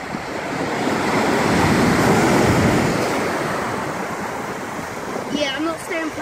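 Cornish sea waves surging and washing ashore, a broad roaring rush that builds, peaks and slowly recedes, close and loud with wind buffeting the microphone.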